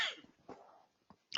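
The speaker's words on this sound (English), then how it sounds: "Excuse me, I have to cough for a minute." A person gives a few short, quiet coughs, harsh and breathy bursts broken by brief pauses, with a slightly louder burst at the end.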